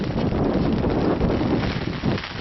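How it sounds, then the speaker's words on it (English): Wind blowing outdoors across a backyard woodpile, a steady broadband rush buffeting the microphone for the whole stretch, with a brief gust swelling near the end. "There's the wind."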